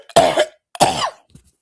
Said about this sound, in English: I was doing really well today on my cough, and now I'm starting again.